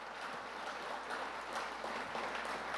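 Faint applause from an audience at a women's basketball coach's introductory press conference, a soft, steady patter of distant clapping lasting a few seconds.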